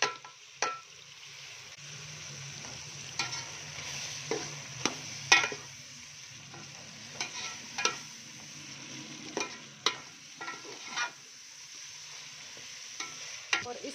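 Tomatoes with garlic ginger paste fry in a karahi: a soft, steady sizzle broken by intermittent scrapes and light clinks of stirring, with no talk.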